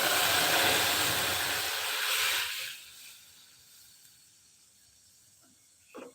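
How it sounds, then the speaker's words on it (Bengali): Lentils poured into a hot fried tempering erupt in a loud, dense hiss and sizzle that holds for a couple of seconds, then fades to a low simmering crackle with a small clack near the end. "ডালটাকে একদম বাগারের মধ্যে ঢেলে দিই"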